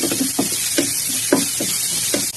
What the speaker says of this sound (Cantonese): 爆香下，青紅椒